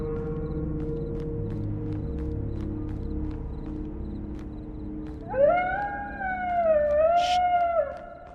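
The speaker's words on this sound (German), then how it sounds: "das ist doch 1:1 das Hundgeheul aus Resident Evil 1" A dog howl from the horror video game Graveyard Shift: after a steady low ambient drone with faint ticking, one long, loud, wavering howl rises and holds for almost three seconds before fading.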